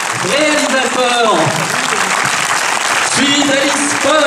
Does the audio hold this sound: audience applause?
yes